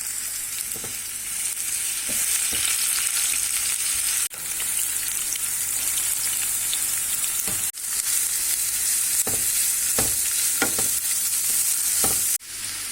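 Chopped cabbage frying in a little oil in a pan, a continuous bright sizzle with occasional stirring scrapes and clicks, close and steady with no talking.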